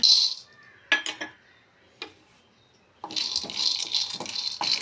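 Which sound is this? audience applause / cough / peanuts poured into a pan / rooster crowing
peanuts poured into a pan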